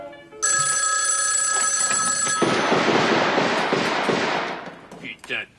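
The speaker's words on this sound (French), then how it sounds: "Que le téléphone sonne." An old-style telephone bell rings loudly in one continuous burst. A clattering rush of noise follows, and a voice is heard at the end.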